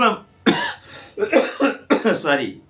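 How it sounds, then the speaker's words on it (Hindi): Several sharp coughs in quick bursts, close and loud, with a throat-clearing rasp between them. "खांसी आ गई मुझे"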